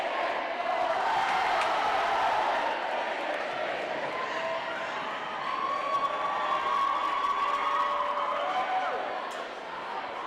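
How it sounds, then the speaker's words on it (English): A high-school boys basketball crowd in a gym roars continuously after a putback in a tight game, a loud, steady wash of cheering and shouting with a commentator talking over it. "The crowd is going nuts."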